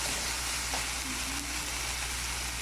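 Tomatoes and greens sauté in a pan for a keerai kootu, giving a steady, close hiss of sizzling with faint stirring, no voices.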